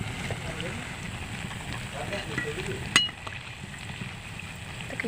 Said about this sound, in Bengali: কি সুন্দর ভাজা হচ্ছে